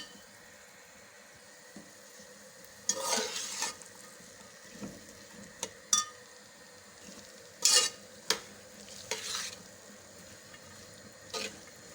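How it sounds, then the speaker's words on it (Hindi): Mixed vegetables for a pulao are stirred in a pot, a quiet background with several short bursts of scraping and clinking from the spoon, some brief and sharp, others a little longer, close by and without voices. "सारी सब्ज़ी को हम अच्छे से मिक्स कर लेंगे।"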